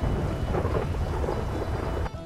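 Thunderstorm in GTA V, a steady, loud roar of heavy rain with deep rumbling thunder throughout, cutting off abruptly near the end.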